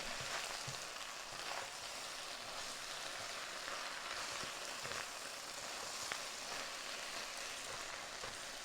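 Beet greens and fennel sweating down in a hot pan give off a faint, even sizzle that holds steady throughout, quiet and unbroken by any voices.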